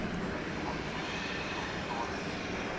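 An American Airlines Boeing 737-800 jet departs DFW airport, its engine roar a steady, broad wash of noise that holds evenly throughout.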